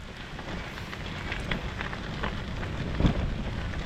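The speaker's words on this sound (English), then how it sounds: "Got a lovely campfire going and everybody's cooking" Steady crackling and popping of a campfire, with a soft hiss underneath and one sharper snap near the end.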